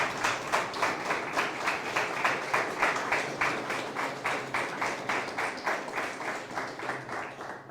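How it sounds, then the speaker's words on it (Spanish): A church congregation clapping in a steady, even rhythm, many hands striking together about three times a second, moderately loud and sustained without voices. "Denle un aplauso al Señor."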